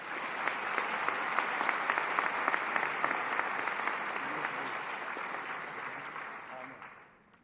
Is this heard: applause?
yes